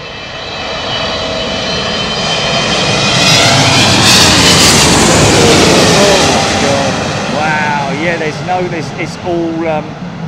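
Cebu Pacific airliner engines roar loud and near, swelling to a sustained peak and then easing off, while people talk over the noise toward the end.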